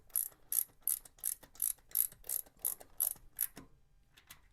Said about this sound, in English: I'll hold the filter housing, and I'll just tighten this bolt, draw it in the rest of the way.